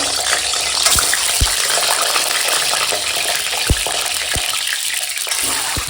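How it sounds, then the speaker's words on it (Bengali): Eggs fry in hot oil in a home kitchen, giving a steady broadband sizzle with a few soft knocks and clicks, close and moderately loud, with no voices. "তেল গরম দিয়ে এখন ডিমটা ভেজে নেব"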